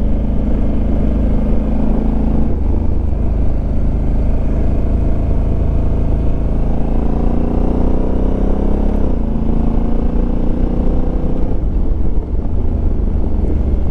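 A Honda Africa Twin motorcycle with automatic shifting runs at full throttle over the Kurakake Pass. The engine drones loudly and rises through several gear changes under heavy wind rush.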